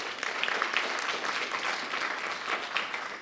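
Audience applause at a Marie Curie Alumni Association event, steady dense clapping from a hall crowd lasting a few seconds, moderately loud with no voices over it.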